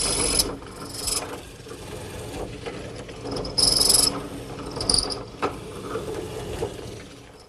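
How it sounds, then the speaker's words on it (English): A drill press fitted with a mortising attachment bores and chisels square holes in wood. Its grinding, rasping mechanical noise comes in uneven bursts with a few sharper squeals and clicks, steady and close. "I'm using my drill press, which has been outfitted with this mortising attachment."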